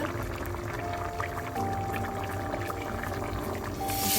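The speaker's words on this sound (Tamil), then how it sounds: "இதுக்கு பழப்புளி கரைச்சி வச்சிருக்கிறேன், அதை சேர்க்க போறேன்." Dissolved tamarind water is poured into a potato curry, a steady close liquid pour with a splash that swells near the end and no talk.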